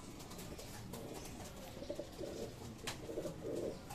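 Pigeons coo softly in a loft, several low, throaty rolling calls in the second half over a steady background hiss, with light bird rustling and no talking.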